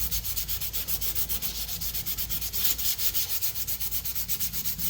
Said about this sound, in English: Just kind of sand it out.